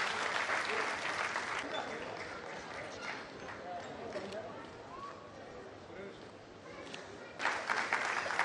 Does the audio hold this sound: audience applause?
yes